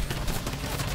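Gunfire in Fortnite crackles as a quick, dense burst of shots within a second, sounding fairly near against a busy background.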